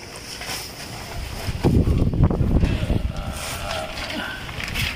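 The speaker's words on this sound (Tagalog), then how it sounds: "lakas ng hangin" Strong gusting wind buffets the microphone with a low roar that swells in the middle, over steady outdoor noise on a metal sheet roof.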